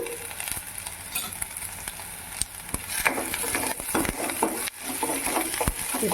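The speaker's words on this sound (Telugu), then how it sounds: "ఎర్రగడ్డలు కరాపాకు వేసుకొని వేయించుకోవాలన్నమాట ఒక రెండు నిమిషాలు" Onions and curry leaves frying in a pan for a sprouted moong curry, with salt just added; a loud, dense sizzle with frequent sharp stirring scrapes and clinks close by.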